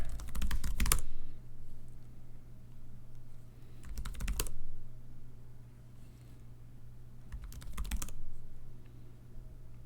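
Three short bursts of rapid key clicks come from a password being typed on a MacBook laptop keyboard. They are spaced a few seconds apart, close and fairly quiet, over a low steady background hum.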